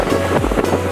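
The flooded Marpha Khola in Mustang, swollen by continuous heavy rain, roars past as a loud, dense rush of water mixed with wind buffeting close to the microphone.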